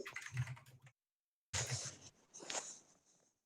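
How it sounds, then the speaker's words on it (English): Fast keystrokes rattle on a computer keyboard in two bursts split by a brief silence, faint and close with uneven clicking, as if picked up over a call. "Who's typing?"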